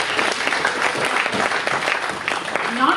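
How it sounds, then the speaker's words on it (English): Workshop audience at a university in Jaipur claps loudly and steadily for a student who spoke up, a dense wash of hands filling the room, with faint voices mixed in. "Can you please clap loudly for Anushka?"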